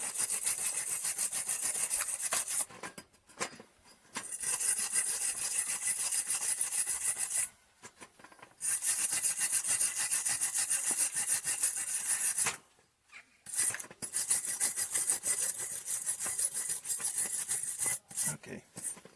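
Wire brush scrubbing slag off a fresh gasless flux-core MIG weld, a steady dry rasping in long bursts broken by short pauses, close and fairly loud.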